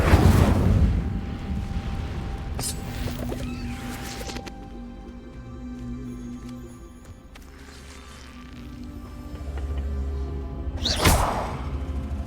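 Fire spell cast in the Hogwarts Legacy video game: a loud whooshing burst at the start, another brief burst near the end, with fainter game ambience and low rumble between.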